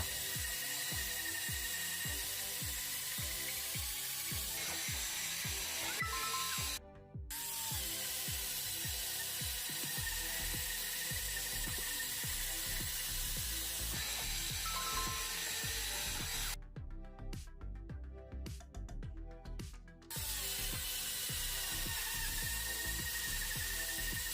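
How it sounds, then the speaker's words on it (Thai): A cordless drill bores 24 mm holes through 3-inch-thick wood, a loud, sustained whining grind broken by brief pauses between holes, with sputtering bursts as the bit breaks through. "ทดสอบเจาะไม้หนา 3 นิ้วด้วยดอกขนาด 24มิล3รูจับเวลา"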